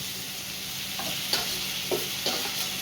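Sliced onions sizzling in hot oil in a pan while cooking a spicy fish curry, a steady frying hiss broken by a few soft stirring scrapes, with no talk.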